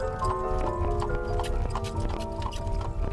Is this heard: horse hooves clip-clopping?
yes